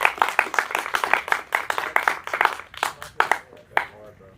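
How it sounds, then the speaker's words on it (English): Student storytelling showcase audience applauding a performer, a dense clatter of many hands clapping steadily, then thinning into scattered claps toward the end. "Round of applause again, Alyssa."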